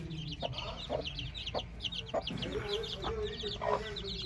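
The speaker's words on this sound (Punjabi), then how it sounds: "ਆ ਹੋ ਗਏ ਚੂਚੇ ਐਡੇ ਐਡੇ" Hen clucking alongside young chicks peeping in a farmyard, a steady run of short high cheeps with repeated soft clucks throughout, fairly close.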